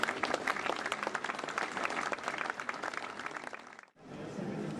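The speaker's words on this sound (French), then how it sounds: "Je crois qu'on peut les applaudir." An audience at a public tramway event applauds local associations, with steady, dense clapping from a large group that cuts off abruptly, then resumes briefly.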